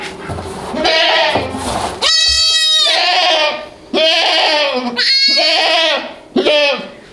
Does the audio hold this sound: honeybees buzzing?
no